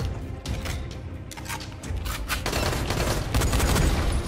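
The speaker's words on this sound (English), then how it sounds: "I just absolutely sprayed him with bullets." Automatic gunfire sprays bullets in the zombie game Dying Light, a dense rapid fusillade of loud shots running continuously with game noise and no speech.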